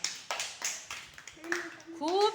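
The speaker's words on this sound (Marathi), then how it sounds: "अजून जोरात टाळ्या वाजवा" Children in a home puzzle game give a few quick claps close by, mixed with an adult's encouraging voice and a child's high-pitched call.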